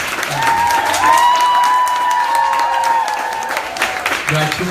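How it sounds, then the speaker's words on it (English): An audience at a swimwear pop-up party gives a round of applause, steady close clapping mixed with crowd noise while a voice speaks and sustained tones sound over it. "So I gotta give Anna and everybody here a round of applause"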